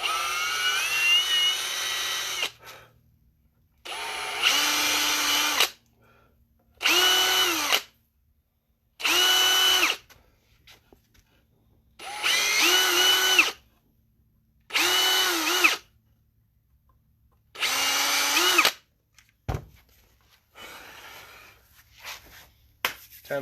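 Handheld cordless drill boring small side-dot holes into a guitar: seven short high-pitched whirring bursts, each a couple of seconds long, split by silent pauses, close and clear, with a faint click near the end.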